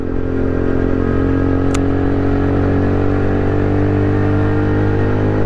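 An Aprilia motorcycle cruises along at a steady pace, its engine droning loud and constant close to the rider, with a brief higher whine partway through and no speech.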